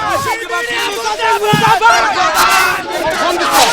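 Large outdoor protest crowd at a wrestlers' sit-in chanting Azadi slogans in loud, rhythmic unison, many voices overlapping with shouts, steady and close throughout.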